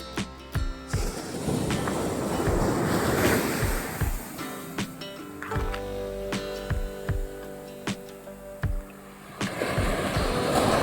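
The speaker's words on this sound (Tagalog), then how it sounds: "Sarap ng alon." Ocean surf on the North Luzon coast surging and washing ashore near windmills, a broad rushing roar that swells and recedes, with wind buffeting the microphone in bursts.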